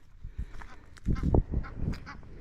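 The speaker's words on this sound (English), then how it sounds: "Those are winter ducks." A few wild winter ducks quack and honk nearby in uneven bursts, the calls growing louder toward the middle, over light background noise.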